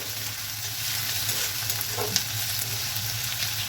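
Chopped onions frying in oil until brown give a continuous, even sizzle and crackle at moderate loudness, with one brief clink of a utensil partway through and no voices.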